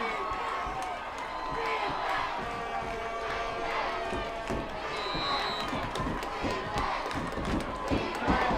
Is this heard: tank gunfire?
no